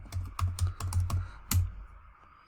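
Password typed on a computer keyboard: about nine quick keystrokes in a steady burst, fairly close and moderately loud, then a short quiet gap, with no talking.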